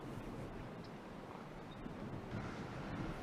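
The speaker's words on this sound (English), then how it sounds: "we're getting some strong gusts well over 20 miles an hour now" Strong gusts sweep across an open golf course, a rough continuous rushing roar buffeting the microphone with no other clear sounds over it.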